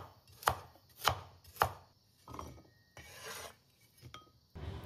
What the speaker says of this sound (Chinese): 冰箱還剩下半根這個胡蘿蔔哈，稍微給它切一切，切小一點的滾刀塊